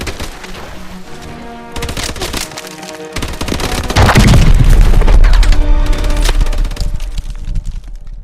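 Call of Duty: Advanced Warfare combat erupts with rattling automatic gunfire and heavy explosions, loud and dense, with a deep booming blast that swells midway and keeps the din thick to the end.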